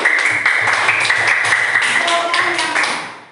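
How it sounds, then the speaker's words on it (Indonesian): Classroom clapping for a student after a lesson on making magnets, a loud, dense burst of many hands close by that fades toward the end, with some voices underneath. "Minta tepuk tangan untuk Jahra."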